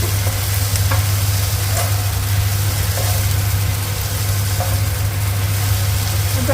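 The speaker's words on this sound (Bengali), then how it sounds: "মানে পুড়বে না, কিন্তু ওয়েল ফ্রাইড হবে, খুব ভালো করে ভাজা হবে।" Onions fry in poppy seed paste over low heat, making a steady close sizzle with a few soft stirring scrapes over a constant low hum.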